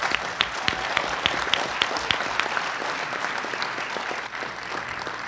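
A seated audience at an evening panel discussion on carbon pricing breaks into steady applause for a panelist, many hands clapping together at moderate distance.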